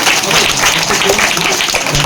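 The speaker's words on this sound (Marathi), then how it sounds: "बोला छत्रपती शिवाजी महाराज की जोरदार टाळ्या जोरदार बक्षीस" Loud, dense applause from a crowd at a school fun day event fills the whole moment, steady and close without pause.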